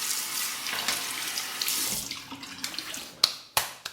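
Water runs from a bathroom tap for a quick rinse after shaving, a close hissing stream with splashes and a few sharp taps and clicks at the end.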